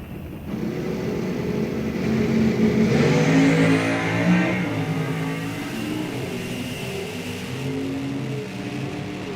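Drag race cars launch at a summer NHRA National Open meet, among them a C-Stock entry and a GTI automatic, their engines revving hard and swelling to a peak before fading into the distance.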